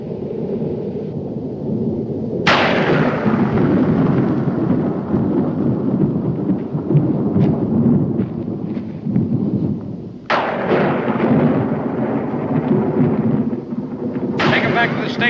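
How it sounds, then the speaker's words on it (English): A thunderstorm in a 1969 Western drama brings three sharp thunderclaps that roll into long, loud rumbles, with voices heard at times between them. "Major Howerton doesn't want to get caught when this storm lets loose."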